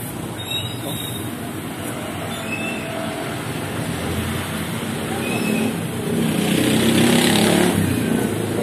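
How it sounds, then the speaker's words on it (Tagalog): A motorcycle engine runs loud and steady, swelling toward the end as the revs rise, with people talking nearby. "Yun ang motor ko, oh."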